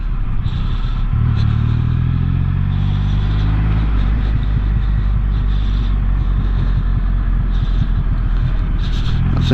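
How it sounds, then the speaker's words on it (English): A truck rumbles steadily on a road during a Triumph Rocket 3 motorcycle test ride, a loud low drone with engine noise lasting throughout, no talking. "Shame this truck is spoiling my test ride."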